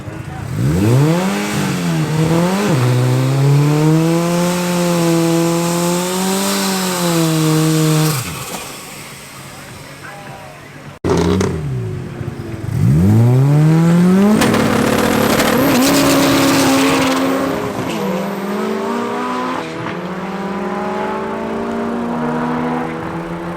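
Drag racing cars including an Audi launching and accelerating hard down the strip at Midvaal Raceway, loud engines climbing through gears with rising and falling pitch, one run after another, close and powerful.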